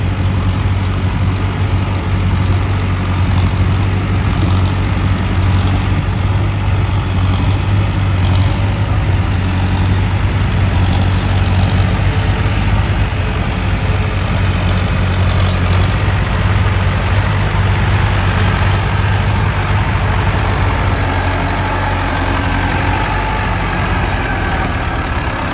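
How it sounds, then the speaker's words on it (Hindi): A loud, steady diesel engine drones throughout, a deep low rumble that stays constant rather than clearly rising, from a Swaraj 735 FE or Mahindra Arjun Novo 4x4 tractor close by. "तो वो ट्रैक्टर आ रहा है"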